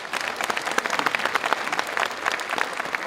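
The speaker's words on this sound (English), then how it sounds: "They also now started clapping." An audience at a spiritual discourse claps together in a dense, even round of applause, many hands close and lively with no voices over it.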